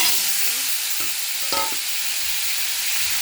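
Potatoes hit hot oil already seasoned with cumin and bay leaf, setting off a loud, steady frying hiss, with a few clattering stirs and knocks from a utensil against the pan.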